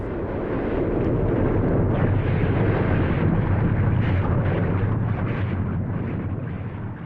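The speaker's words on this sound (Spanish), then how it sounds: "la erupción volcánica más destructora que se recuerda de la historia" A massive, roaring explosive rumble of a hugely destructive volcanic eruption that left an 83-square-kilometre crater, dense and sustained with deep booming low end, rolling on for several seconds.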